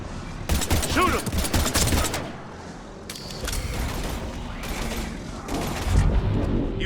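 Gunfire in the Mass Effect 3 video game, with loud bursts of rapid automatic shots in clusters separated by brief pauses, mixed with mechanical clatter and some game voices.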